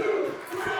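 Wrestling crowd in Mississauga roaring at a near fall in a women's match, a dense, loud wash of cheering and shouting that swells and holds throughout.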